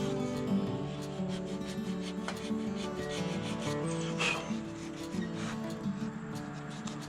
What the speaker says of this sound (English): I don't think it hurts one bit to sand across the grain on a wood carving fish.